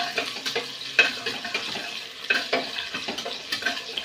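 Chopped onions sizzle in hot oil in a pan at the start of a simple dal. Close, crackling frying is broken up by repeated scraping stirs of a spoon, with no voices.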